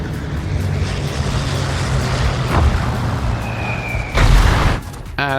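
Bombs from a dive bomber strike the Kleber destroyer in World of Warships: a steady low engine and sea rumble, then a sharp whistle and a loud blast of several impacts near the end.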